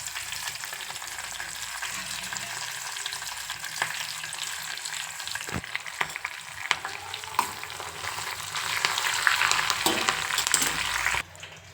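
Curry leaves frying in hot oil, a steady crackling sizzle heard close up that runs throughout with sharp pops and stirring scrapes, growing louder near the end before cutting off abruptly.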